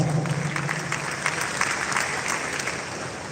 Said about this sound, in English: Please, one round of applause for her.